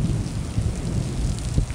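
Heavy monsoon rain pours down steadily in Scottsdale, Arizona, a dense, constant roar of drops with low rumbling, loud and close, with no voices.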